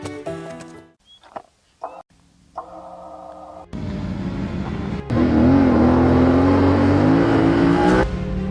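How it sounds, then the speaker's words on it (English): A car on Pipeclay Road, a mountain dirt track, drives in close and loud with a rising engine drone, steady and sustained for several seconds before cutting off, after a quieter stretch. "There are cars on this road"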